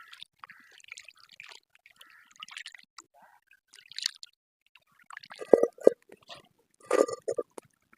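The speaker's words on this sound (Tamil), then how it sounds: "மட்டியை இப்போ கழுவ போகிறோம் மட்டியை மட்டும் கிட்டத்தட்ட ஒரு நாலஞ்சு தடவை கழுவிக்கணும்" River mussels are washed in water, giving quiet, intermittent splashes and sloshing bursts close by, growing busier toward the end, with no talk.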